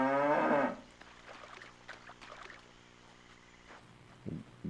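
A cow in the Jade Empire game world lets out a single loud, drawn-out moo, followed by quieter ambient hum with a few faint knocks.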